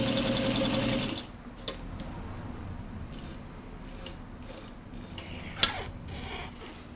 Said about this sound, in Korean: 두꺼운 옷감에도 굉장히 강력한 바느질이 할 수가 있습니다